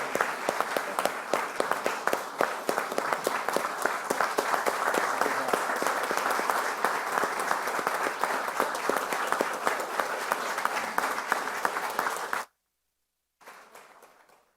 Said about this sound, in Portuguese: gostaria de uma grande salva de palmas para o Vanderlei